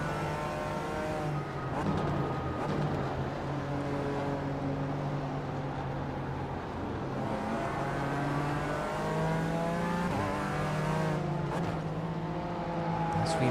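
BMW GT4 race cars in an iRacing sim race, with engines droning and rising and falling through gear changes, several cars overlapping in a loud continuous roar.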